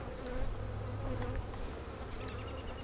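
Bees in a small hive reduced to a single deep box with a small entrance give off a steady, low, close buzz, with a few louder passes of individual insects.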